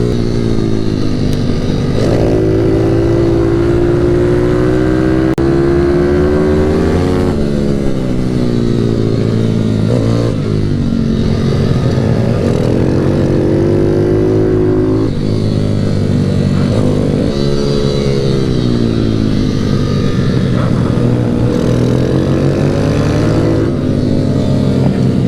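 Minibikes racing at a British Minibike Championship round at Teesside, their small engines revving loudly and continuously as they pass close by, pitch rising and falling through the gears with no talk.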